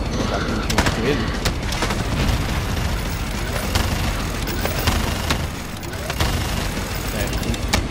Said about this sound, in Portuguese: Vou dar um tiro com ele.